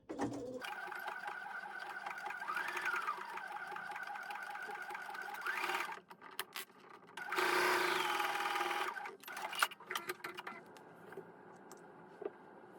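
A sewing machine runs a full-allowance construction stitch on a fabric waist pack, humming in uneven bursts with brief stops and backstitching toward the end.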